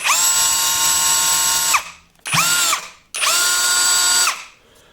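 A power drill fitted with a sheet-metal cutting attachment runs free in three loud, close bursts of steady high whine, each spinning down briefly before restarting.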